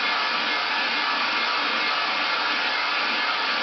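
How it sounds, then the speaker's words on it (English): A hair dryer blows steadily and close by, a continuous airy roar that holds at an even level throughout, with no voices. "I'm still blow drying it at the same time"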